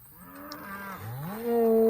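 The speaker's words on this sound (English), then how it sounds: "Jones Angus farm bred cows" A single Angus cow moos on a farm during calving season, close and loud, with a long pitch-shifting bellow rising toward the end.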